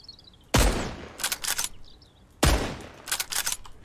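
Two sharp gunshots in the survival game Mist Survival, played during a bandit camp raid, each followed by a burst of rapid rattling fire, with faint bird chirps in the background.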